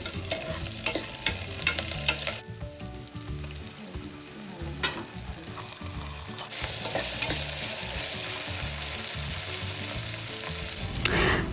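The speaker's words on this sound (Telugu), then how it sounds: "కట్ చేసుకున్న ఆనియన్, పచ్చిమిర్చి అండ్ అల్లం వెల్లుల్లి పేస్ట్ వేసి మళ్ళీ ఒక 2 minutes వరకు వేగనివ్వండి" Chopped onion, green chili and ginger-garlic paste fry in hot oil with a continuous close sizzle. Repeated scraping and stirring clatters of a spoon in the pan come and go.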